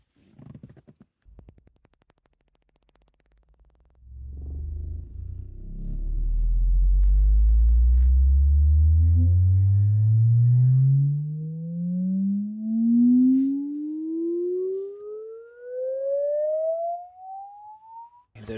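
Rising sine-wave sweep played through two 18-inch subwoofers in an infinite baffle, starting as a deep rumble and gliding steadily upward to a clear tone, loud and close, with faint overtones.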